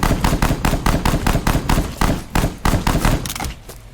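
Rapid bursts of pistol gunfire in the airship video game Black Skylands, a steady volley of loud, close shots in quick rhythm that thins out near the end, with no talking.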